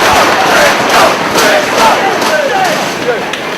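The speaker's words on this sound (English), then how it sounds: "And listen to this crowd." A loud wrestling arena crowd at a Ring of Honor Supercard of Honor show roars and shouts in rising, chanting swells, close and continuous with no clear voice on top.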